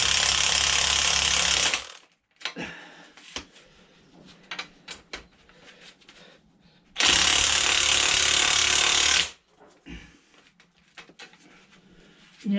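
A tool working the 21mm top mount nut on the front strut of a Citroen C4 Grand Picasso: two loud, close, sustained bursts of harsh mechanical noise about two seconds each, with clinks and handling sounds between.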